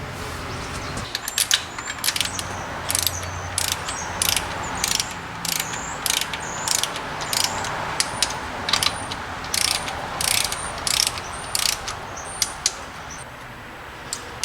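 Torque wrench tightening the bolts of a power steering pump mounting kit on a Fox Body Mustang, a rapid series of loud, close ratchet clicks in bursts over about thirteen seconds.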